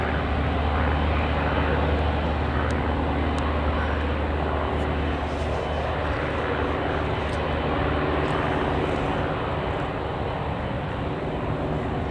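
An Emirates airliner at Newcastle Airport produces a loud, steady jet engine roar that holds evenly throughout, heavy in the low end with a broad rushing hiss above it.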